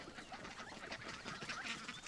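A faint, brief cluster of farm chickens softly clucking and chirping together, distant and low in level with no voices.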